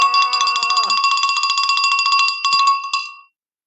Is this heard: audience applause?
no